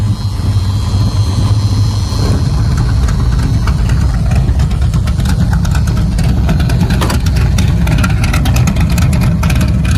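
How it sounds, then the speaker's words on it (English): A muscle car runs on its factory exhaust through the mufflers, a close, loud idle with a steady low rumble and blips of revving in the second half. "that's your factory exhaust sound that I have, or through the mufflers I should say"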